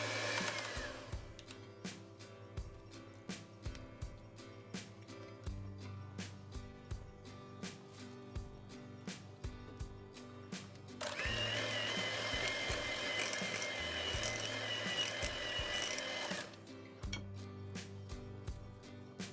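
An electric hand mixer beating cream cheese frosting on low speed, a continuous motor whir with a rhythmic rattle of beaters in the bowl, growing louder and brighter for a few seconds in the middle before easing back.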